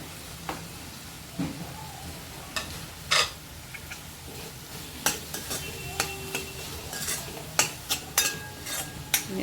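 Moong dal khichdi with turmeric and salt stirred in a pot, with a quiet background simmer broken by repeated short knocks and scrapes of the spoon against the pot, spaced irregularly, no talking.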